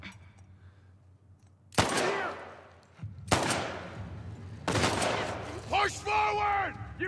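Gunshots in The Last of Us Part II's No Return mode sound as three sharp, loud reports spaced a second or more apart, each followed by a decaying echo, with game sounds and a tonal effect after the last one.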